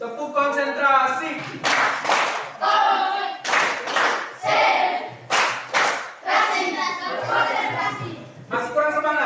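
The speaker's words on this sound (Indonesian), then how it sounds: "Tepuk konsentrasi." Students in a classroom doing a concentration clap, a rhythmic pattern of bursts of group clapping interleaved with children chanting together, loud and close.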